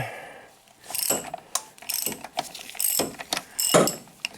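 A ratchet with a deep 22mm socket, extension and swivel joint clicks as it loosens a NOx sensor on a high-mileage Saturn car, in short bursts of close, crisp pawl ticks.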